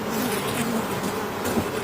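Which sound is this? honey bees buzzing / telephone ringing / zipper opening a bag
honey bees buzzing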